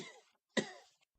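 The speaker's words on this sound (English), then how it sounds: "There was more coughing from the distance" Two separate coughs from a distance, the first trailing off and the second sharper and louder after a short silence, with no talking.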